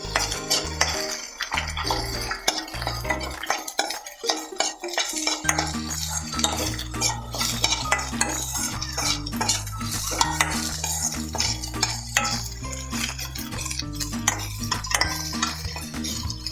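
Onion, garlic and dried red chilli are sautéed in a pan with constant busy stirring, a metal spoon scraping and clinking against the pan over a low sizzle, loud and close throughout.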